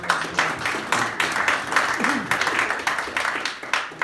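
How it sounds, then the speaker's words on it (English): Audience applause at a Kiwanis award ceremony honoring parents, a close, lively burst of many hands clapping in a room with some voices mixed in. "Let's start with a round of applause for the parents who are doing a great job."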